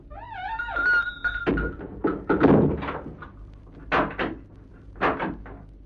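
A series of heavy thunks and knocks as a big front door of a shop is shut and locked, with rattling clicks between the louder knocks.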